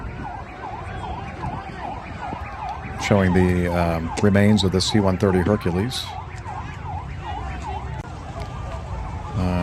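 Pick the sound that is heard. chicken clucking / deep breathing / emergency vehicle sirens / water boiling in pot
emergency vehicle sirens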